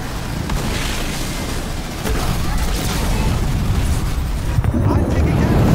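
Enemy structure blowing up in the Halo Wars 2 strategy game, rumbling explosions and battle booms layered with ongoing combat noise, loud and continuous throughout.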